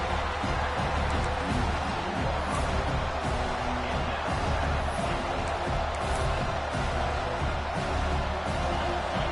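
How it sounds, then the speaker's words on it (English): Large stadium crowd roaring steadily at a college football game between Penn State and Oregon as the defense lines up near the goal line, a dense, continuous wash of cheering with no clear speech. "this big crowd doing everything possible to inspire this defense down here near the goal line"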